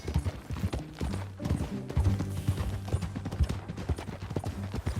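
Steady clip-clop of horse hooves at a walking pace in Red Dead Redemption 2, close and rhythmic, with low music beneath and no voices.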